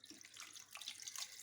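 Water pours steadily into a cooking pot holding spiced fish and mango with turmeric, coriander and chilli powder, a continuous close splashing hiss at low level.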